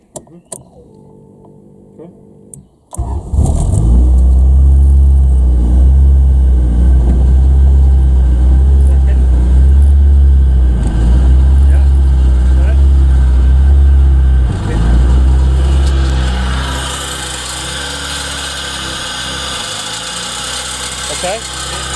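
A Honda Civic EF engine starts up and runs loudly with the driving wheel spinning, a steady rumbling drone with a rhythmic pulsing, then settles to a lower, quieter running note near the end.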